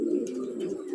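Young racing pigeons at a training release make a brief, soft, low cooing burble, heard close and alone.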